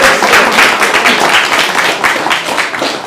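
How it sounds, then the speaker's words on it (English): Indoor audience at a university hackathon clapping, a dense burst of applause that stays loud and steady for about three seconds before starting to thin. "Give yourselves a round of applause."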